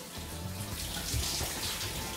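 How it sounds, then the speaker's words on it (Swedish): A small homely shower runs steadily, a continuous hiss of spraying water with a faint low rumble, close and alone with no voices. "nu ska jag få duscha hos honom"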